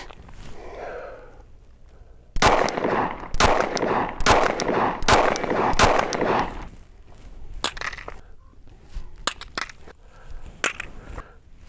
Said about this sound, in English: I'll shoot 5, eject a live round, strip the mag, do the drop test, reload the mag, 5 more rounds